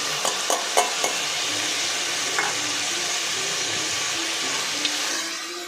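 Two tomatoes frying in a pan for tomato bath, a steady close hiss of sizzling oil broken by a few sharp clicks and scrapes of stirring near the start, with no voices.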